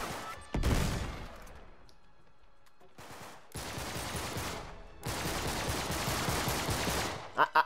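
Gunfire in the action game Uncharted 3: a sharp shot, a quiet gap, then rapid bursts of automatic fire in separate blocks, ending with two short, sharp cracks.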